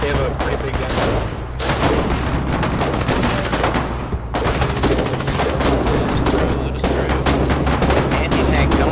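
A large gun in a multiplayer shooter video game blasts in rapid, heavy bursts, loud and close, with dense overlapping gunfire and explosions filling the scene almost without pause.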